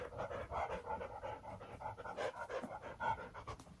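A dog pants rapidly and rhythmically at close range, quick breathy huffs in a steady run with no talking.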